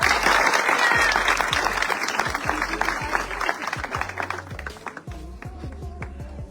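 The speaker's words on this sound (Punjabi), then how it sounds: "ਧੰਨਵਾਦ ਕਰਦੇ ਆ ਸਾਰੇ ਤਾੜੀਆਂ ਮਾਰ ਕੇ" A crowd at a church gathering for flood-relief helpers breaks into loud, sustained applause, with dense clapping throughout that thins a little toward the end.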